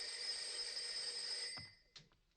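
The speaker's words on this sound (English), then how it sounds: "The phone is ringing." A telephone bell rings steadily with a bright electronic trill for about a second and a half, then cuts off abruptly, followed by a soft knock or handling sound.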